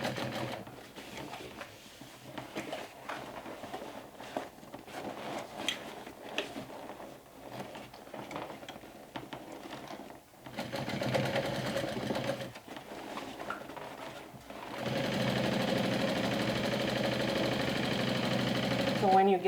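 A sewing machine stitching the lining of a small backpack, its rapid mechanical whir running in bursts with short stops, then a long steady stretch at the end, with a voice talking over the earlier part.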